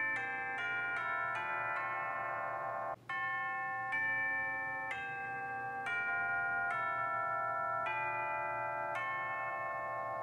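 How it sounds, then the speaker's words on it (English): Several bright metallic strikes on tubular bells, hit with a rawhide hammer, ring out one after another, each note sustaining and overlapping the last, with a brief gap partway through. "The last auxiliary instrument was called chimes, bell chimes, or tubular bells"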